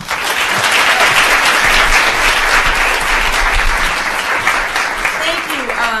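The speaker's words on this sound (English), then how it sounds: "A big round of applause." Live-event audience applause fills the room as sustained, loud clapping from a large crowd, with voices mixed in under it.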